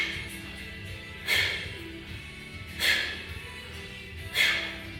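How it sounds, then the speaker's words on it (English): Three forceful, sharp breath bursts land at regular intervals, each a short hissing exhale during a kettlebell swing, close and fairly loud over a low background hum. "Lastly, I'll say your breathing should sound like this."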